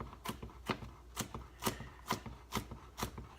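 A knife rough-chops vegetables on a board for black beans and rice in seven evenly spaced, crisp thunks about half a second apart, close but fairly quiet, with no talking.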